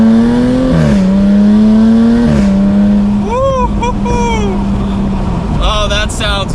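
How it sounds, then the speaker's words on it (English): A 2021 Jaguar F-Type R-Dynamic with the top down in dynamic mode drones at steady revs, then its exhaust rises and falls through several quick revving surges and gear changes, loud and close, with speech in places. "pop it over into dynamic mode now, so that way we can hear the exhaust with the top down"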